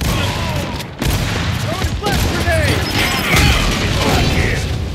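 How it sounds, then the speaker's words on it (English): Gunfire from several weapons in the Gears 5 video game, a dense sustained barrage of shots with bursts and crashing impacts, loud and close, with a voice speaking over it. "Everybody's shooting at me"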